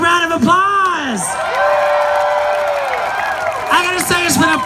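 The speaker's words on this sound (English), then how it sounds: "Give him another big round of applause." A comedy club crowd in Toronto whoops, cheers and claps for a comic, loud and close, with shouted voices rising and falling over the steady applause.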